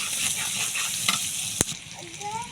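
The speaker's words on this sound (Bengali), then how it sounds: "এই যে তেজপাতা, গরম মশলা, এলাচি, দারচিনি সব দিয়ে একটু ভাজা ভাজা করে নেবো।" Bay leaf, garam masala, cardamom and cinnamon fry in hot oil for khichuri, a steady crackling sizzle with a sharp clank of a utensil against the pot midway.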